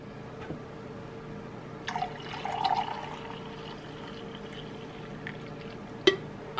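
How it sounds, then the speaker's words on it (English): Coffee being poured at home: a brief, moderately loud liquid pour lasting about a second, framed by a few light clinks and taps in a quiet room. "I'm gonna pour my coffee here."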